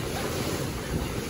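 Ocean waves wash in at a windy beach, a constant roaring surf mixed with heavy wind buffeting the microphone, with no voices heard.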